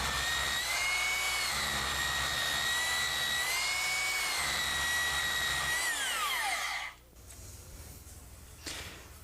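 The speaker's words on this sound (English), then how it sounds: "Work carefully with the belt sander" A belt sander sanding wood whirs loudly with a high, wavering whine, then winds down and stops, leaving a quieter background hum.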